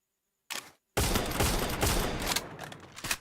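Rapid bursts of gunfire in a competitive shooter match crackle loudly, a short volley then a sustained dense fusillade, close and harsh, tapering near the end.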